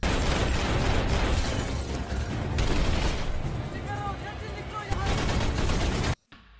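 A shootout scene in the film From Paris with Love: dense, rapid, loud gunfire bursts crackle almost continuously, with a few sharper pops, then cut off abruptly at the end.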